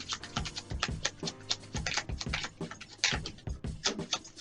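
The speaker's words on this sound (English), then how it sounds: "One more shuffle." A tarot card deck being shuffled by hand, producing a quick, uneven run of close, crisp taps and soft slaps with no voice.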